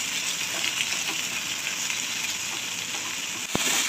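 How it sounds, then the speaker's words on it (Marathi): Tomatoes added to reddened onion, garlic and ginger fry in a hot pan, giving a steady close sizzle throughout, with a sharp knock of the stirring spoon near the end. "आता आपण टोमॅटो टाकून घेऊया आणि त्याला छान नरम होईपर्यंत फिरवून घेऊ"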